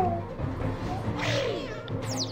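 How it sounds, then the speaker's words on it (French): A cat meows in the video game Dofus, a drawn-out, wavering cry over game music and effects, followed by a brief bright chime. "Mon dieu, ce bruit de chat."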